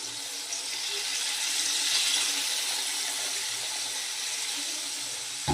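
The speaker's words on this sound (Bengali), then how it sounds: "এবার আমি জল দিয়ে দিচ্ছি।" Steady stream of water poured into a pan for a homemade fish curry, a continuous hissing splash lasting several seconds with a small clatter at the end.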